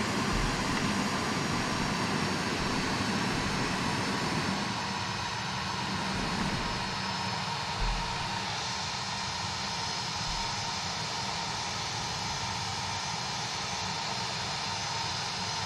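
CRJ-900 jet engines in the X-Plane 12 flight simulator make a constant, moderately quiet whooshing roar that shifts in tone partway through, heard alone without speech.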